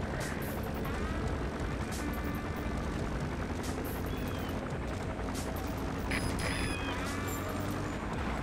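Helicopter rotors drone steadily overhead while patrolling for security forces in the video game Metal Gear Solid V: The Phantom Pain, a loud, continuous low thrum with faint higher tones mixed in.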